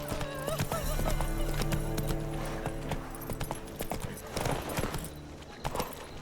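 Galloping horse hooves in The Witcher 3 video game, a fast rhythmic clip-clop close up, mixed with a whinny and game music or ambience underneath.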